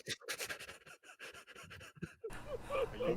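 Heavy, rapid panting close to a microphone, a run of short rhythmic breaths that gives way to a noisier, muffled stretch near the end.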